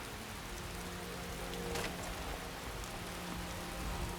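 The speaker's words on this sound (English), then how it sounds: "Oh, it's raining." Steady rainfall in the video game Skyrim: Dawnguard, pattering on surfaces, a constant wash of drops at moderate volume with no voices.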